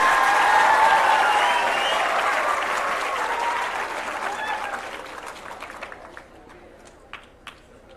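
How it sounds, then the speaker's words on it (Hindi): Sustained audience applause at an event with Madhya Pradesh students performing for a Union Minister, loud and dense at first, then thinning into scattered individual claps that fade out. "सबके लिए ताली बजाइए।"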